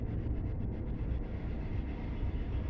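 A heavy boat engine on the Pasig River pulling a load: a deep, steady low rumble and drone, constant in level throughout, with no talking.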